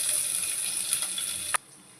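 Chopped ginger and garlic frying in oil in a pan, a steady close crackling sizzle for about a second and a half that cuts off abruptly, leaving a faint hiss.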